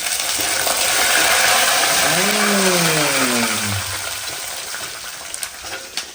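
Garlic and curry leaves crackle and sizzle steadily in hot oil on a home stove, a dense continuous frying hiss that eases slightly toward the end, with a brief clank of a utensil partway through.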